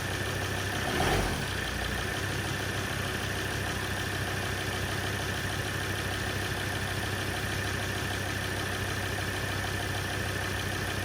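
A Ford Ranger 3.2 engine, recently repaired after catastrophic failure, idles with a steady low drone, with one brief louder bump near the start and no talking.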